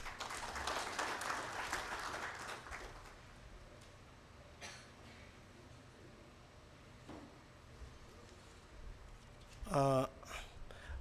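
Applause from a crowd at an official report launch event fills the first few seconds, then fades into quiet room noise with a brief burst of sound near the end.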